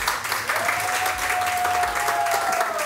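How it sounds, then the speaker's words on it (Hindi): Studio audience applauding during a Pakistani morning TV show, steady dense clapping throughout at an even level, with a faint tone running underneath. "हम लोग ज़रा बजा ताली बजाएं।"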